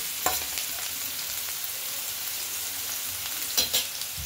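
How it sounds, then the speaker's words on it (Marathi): Mashed onion fries in hot oil in a pan already used for frying fish, the base for a prawn masala; a steady close sizzle runs throughout, with a couple of sharp stirring scrapes near the start and end. "कांदा मस्त आपण ह्याच्यात मॅश करून घेणार, जरा फ्राय करून घेणार आहे"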